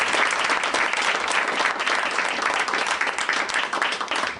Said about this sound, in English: we all owe you a round of applause